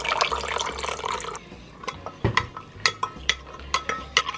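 A spoon stirs dissolved gelatin and cold water for rainbow gelatin, first a busy liquid swirl, then a series of sharp, close clinks against the bowl at a quick, even rhythm.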